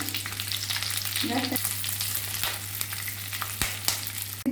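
Capsicum pieces fry in hot oil left over from frying paneer, making a continuous close sizzle with occasional spatula knocks and a low steady hum underneath.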